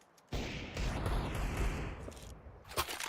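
AK and USP gunfire in a competitive shooter match, a dense burst of rapid shots lasting a couple of seconds, fairly close, with a few trailing pops.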